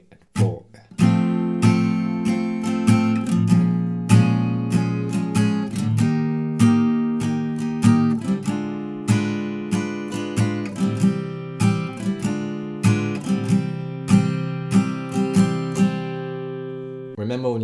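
Acoustic guitar strumming the chorus chord progression of a song with a swing feel, steady rhythmic strokes ringing out close and clear for the full stretch, with no talking.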